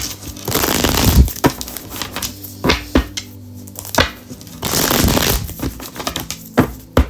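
A deck of tarot cards is shuffled by hand up close, giving a string of crisp riffles, flicks and soft papery rustles with brief pauses between bursts.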